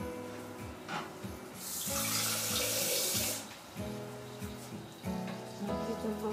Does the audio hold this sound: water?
yes